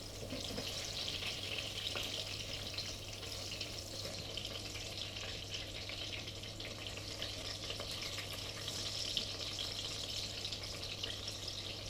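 Aubergines frying in a pan give a steady, continuous sizzle and crackle, even and moderately faint, with a constant low hum beneath and no voices.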